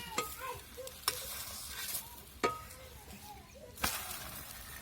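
Dhirde batter frying on an oiled griddle gives a steady close sizzle, broken by several sharp scraping taps spread through the few seconds.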